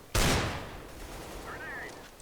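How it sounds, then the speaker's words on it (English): A flashbang grenade detonates in a video game with a sudden sharp loud bang that decays into a ringing, hissing tail, followed by a faint high whine. "Deploying flashbang. Throwing a flashbang. Flashbang."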